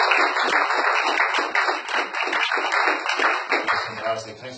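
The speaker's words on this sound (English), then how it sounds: "A round of applause, please, for sharing your..." An audience at a talk on stress gives a round of applause, a dense continuous patter of clapping that fades toward the end as a voice begins speaking.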